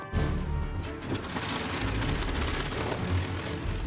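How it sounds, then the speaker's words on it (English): Close, loud engine roar with a dense rumble and hiss that holds steady throughout, like a propeller aircraft running up. "The last time Frank heard these engines starting, he was setting off on a mission in 1945"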